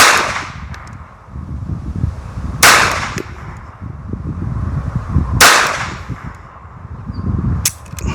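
A Taurus pistol fires at targets outdoors, three sharp, loud, well-spaced shots cracking out over a rumbling background.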